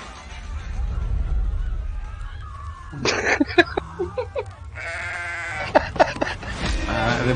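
Goats bleating in the Goat Simulator 3 trailer, a few sharp cries in bursts over a background of game music and effects.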